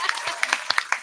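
Scattered clapping from a comedy show audience in Milwaukee, a handful of sharp, uneven claps over a murmur of voices in a live room.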